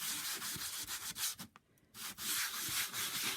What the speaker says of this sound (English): all I'm doing is just pushing the pastel back into the pastel mat to allow me to layer